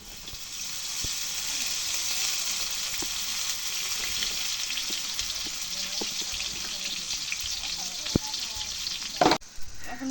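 Oil sizzles loudly and continuously in a pan while biryani and mutton curry are cooked at home, with scattered clicks and taps and a brief clatter near the end.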